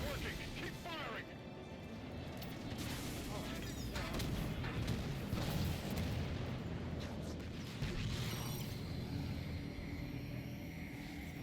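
Heavy gunfire and booming blasts fill a Halo 5: Guardians co-op battle against incoming Phantoms, a continuous loud wash of shots and explosions with players calling out over it.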